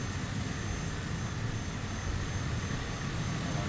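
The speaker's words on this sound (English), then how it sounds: "We're taking off on runway number 3." Aircraft engine in Microsoft Flight Simulator, taking off from runway 3 on an Iceland bush trip, a steady, loud broadband roar holding constant throughout with no voices.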